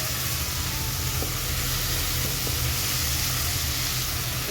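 Spice paste for a sea crab curry sizzling in oil in a pan: a steady, close, broadband frying hiss that runs unbroken throughout with no talking.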